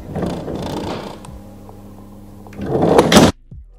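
Sliding door of a VW T2 Bay van with an awning fitted: a low rolling rumble and rattle, then a louder slide ending in a sharp clunk as it stops, close and loud, no talk.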